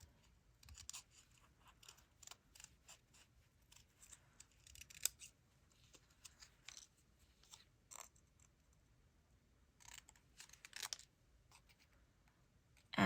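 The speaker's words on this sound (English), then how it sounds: "And just fussy cut it out." Small paper scissors fussy-cutting a watercolored, stamped paper bird from white paper, close and quiet, with irregular bursts of short snipping strokes separated by brief pauses.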